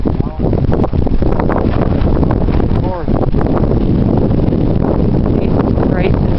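Blizzard winds roar and buffet a microphone outdoors in heavy snow, a loud continuous rumbling gust with no break.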